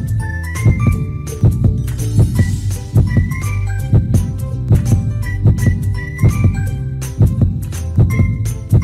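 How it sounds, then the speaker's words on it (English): A thumping heartbeat from inside an egg in a jungle baby-animal hair salon game, steady paired beats repeating about once a second over a soft musical background with light chimes. "I hear a heartbeat."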